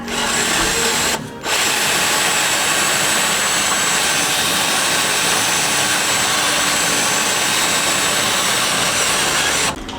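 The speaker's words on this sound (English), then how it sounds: "we're gonna have to use a step drill like this to drill a 1/4 inch hole" A step drill bores a hole in a Jeep JK rear bumper, a loud continuous high whine of the drill cutting metal, briefly stopping after a second and then running steadily to the end.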